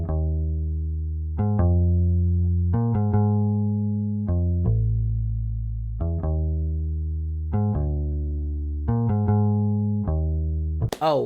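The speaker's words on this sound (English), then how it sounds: "I used their P bass preset" A sampled P bass preset from a Crux electric bass plays in Sine Player, a deep, round line of sustained notes with clear attacks and no other instruments, close and steady throughout.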